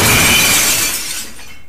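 A glass bottle shatters loudly. The sharp burst of breaking glass fades into a ringing scatter of shards, with no voices.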